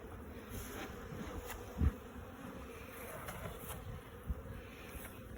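Honey bees buzzing steadily all around an open hive at close range, a constant droning hum with a couple of faint thumps.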